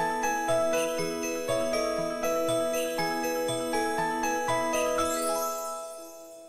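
A musical passage encoded with the CELT low-latency codec: bright, bell-like repeated notes in a steady rhythm with plucked accents, clean and close, fading out over the last second.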